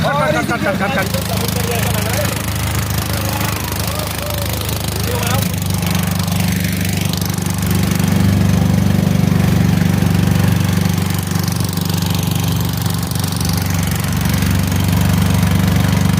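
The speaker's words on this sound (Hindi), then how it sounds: "देखो ये इंजन स्टार्ट हो चुका है" A boat engine on the Narmada river runs steadily after starting, a loud, continuous low mechanical drone that persists throughout with a rough, chugging texture.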